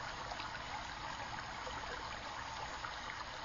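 A river flows past small dams made of branches, a steady broadband rush and trickle, soft and unchanging, with no voices.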